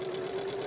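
A sewing machine stitches quilt binding with a steady, close, continuous mechanical hum and rapid needle chatter throughout the short burst.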